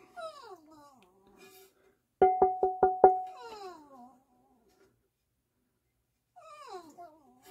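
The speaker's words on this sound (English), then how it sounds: "Oh, dog's upset." A dog whines in a few short, high, wavering bursts with quiet gaps between them, while a quick run of five sharp mechanical clicks cuts in partway through.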